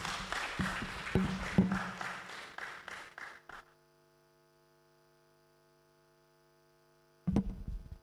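Scattered audience applause at a public lecture on hypertension, a few seconds of thinning claps that die out into near silence with a faint electrical hum, followed by a brief loud knock or handling noise near the end.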